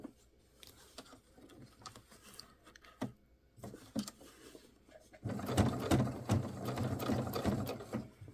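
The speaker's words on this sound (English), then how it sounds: "We're just sewing the zipper tape and the seam allowance." Sewing machine stitching zipper tape and seam allowance on a Vogue 9292 dress, first in short, quiet bursts with pauses, then a louder continuous run of rapid mechanical stitching.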